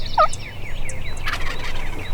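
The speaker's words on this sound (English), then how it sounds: "have heard a hard gobbling turkey headed their way" A wild turkey gobbles once, loud and close, in Texas hill country, its rattling burst rising over a steady hiss of outdoor ambience, with faint songbird chirps in the background.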